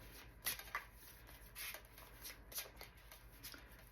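A deck of love oracle cards being shuffled by hand, soft repeated riffling bursts close by at a low level, no talk.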